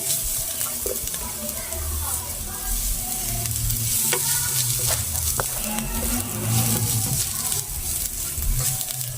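Mixed vegetables frying in a pan for kabab, a continuous close sizzle with occasional stirring scrapes and faint clinks, steady throughout.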